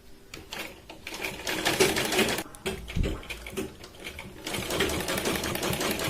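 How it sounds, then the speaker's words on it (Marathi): Sewing machine stitching a strip onto a katori blouse, a rapid, steady mechanical clatter running in bursts with brief pauses, close and clear. "आणि पट्टी जी आहे ती बरोबर इक्वल इथे करून आपण शिलाई लावायची."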